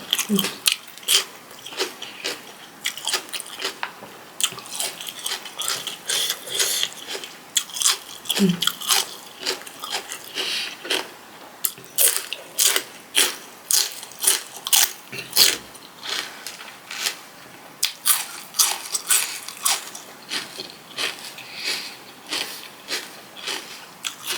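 Close, crisp crunches and chewing while eating a Thai-style salmon konjac noodle salad, with rapid repeated bites running steadily throughout and faint breathy vocal sounds between them.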